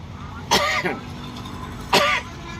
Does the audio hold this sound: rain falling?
no